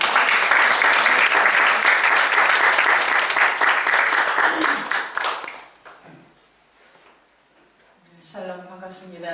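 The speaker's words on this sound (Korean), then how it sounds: "우리 박수로" Loud, dense applause from a congregation at an opening worship service, sustained for about five seconds, then fading into near silence before a voice begins speaking.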